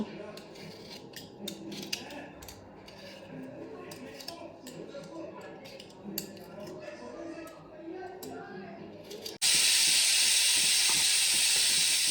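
A pressure cooker of potatoes on the stove lets out a loud, steady steam hiss that cuts in abruptly near the end, after a stretch of quieter household clatter.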